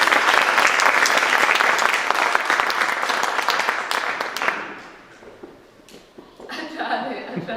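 A crowd at a Haitian yanvalou drum and dance performance claps loudly and densely, then the applause fades away, followed by a few quieter sounds and faint voices.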